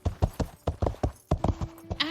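Hooves of a chestnut-gray horse clip-clop steadily while it is ridden in the game Astride, about a dozen crisp, even strikes at a walking rhythm, close and clear, ending with a faint whinny-like sound.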